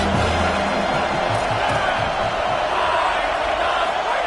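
A stadium crowd in the College Football 25 video game sends up a constant, loud roar of cheering that holds steady throughout, with a voice faintly present near the start.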